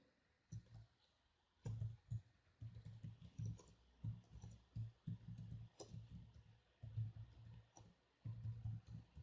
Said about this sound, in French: je vais taper une description de ma note